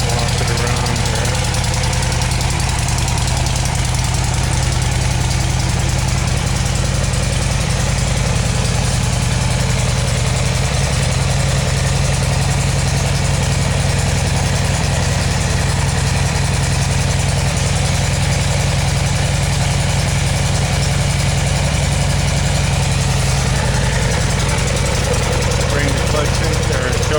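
A 1981 Harley-Davidson Low Rider V-twin idles steadily and loudly up close, a continuous low thumping rumble that holds even for the whole stretch, with brief talk now and then.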